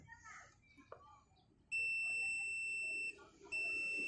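Continuity tester wired to the starter circuit of a Yamaha Aerox scooter gives a loud, steady high-pitched electronic beep lasting over a second, breaks briefly, then sounds again, after faint handling noise.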